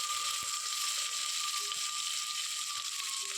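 Onions with green chilies and bay leaf fry in a pan for beetroot rice, giving a steady, close, bright sizzle that runs unbroken throughout.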